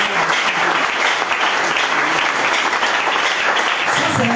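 A church congregation applauds to acclaim the Lord during a Sunday service at an assembly in Ngaliema, steady dense clapping filling the room with no break, loud and continuous throughout.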